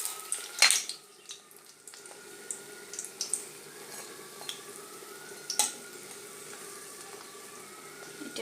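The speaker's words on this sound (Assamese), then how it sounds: "এতিয়া অকণমান লাষ্ট সময়ত অকণমান জুইটো বাঢ়াই দি পেলাই ভাজি লৈছোঁ।" Narasingha (curry) leaf fritters frying in a pan over raised heat, a soft continuous sizzle broken by a few sharp clinks and scrapes of a utensil against the pan, fairly quiet and close.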